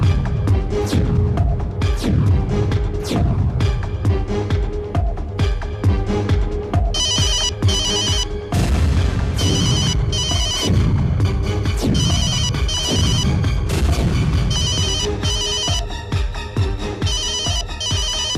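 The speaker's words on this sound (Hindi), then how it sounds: "जिस किसी का भी फोन बजेगा" A phone rings with a loud, repeating electronic ringtone melody, close and continuous, with no voices over it.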